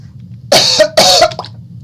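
Two loud coughs close to the mic, about half a second apart, followed by a faint rasp, with a low hum underneath.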